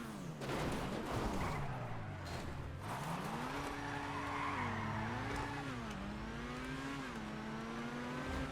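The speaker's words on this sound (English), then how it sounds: "And handbrake dismount." A car in the video game GTA skids under the handbrake, giving a long wavering tire squeal that rises and falls over engine noise, close and continuous for several seconds.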